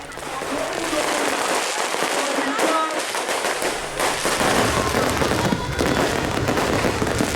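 Dense New Year 2025 fireworks over a city in Parepare, South Sulawesi, a continuous crackling roar of bursts with crowd noise and some talk mixed in throughout.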